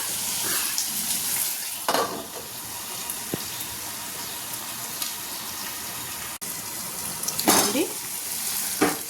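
Onions frying in a pan for Telugu-style onion lemon rice, a steady close sizzle with brief stirring scrapes and a few louder bursts, no talking.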